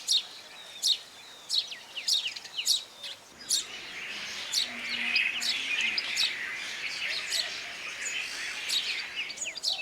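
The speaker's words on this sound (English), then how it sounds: "The birds then shake themselves vigorously, dislodging the dirt and leaving their plumage clean and fresh." House sparrows chirping in a group during a dust bath, a dense run of quick, close tweets and squawks over steady rustling background noise.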